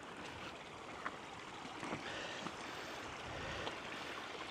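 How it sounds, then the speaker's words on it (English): Water runs out of a newly built pond and flows off toward a road as a steady, soft rushing gurgle. The flow sounds faint and continuous, with a few small splashes and no talk. "look at the water, how it's just running out of the pond"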